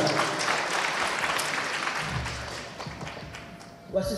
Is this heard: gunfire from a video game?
no